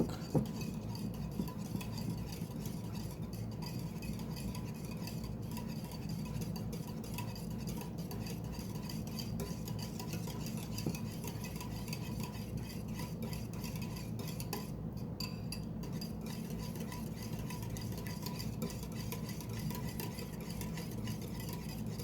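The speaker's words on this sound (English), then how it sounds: "whisk them around enough to where it's completely mixed" Eggs are whisked in a bowl with a steady, continuous scraping rattle of the whisk against the sides, close and even throughout with a few slightly louder clinks and no speech.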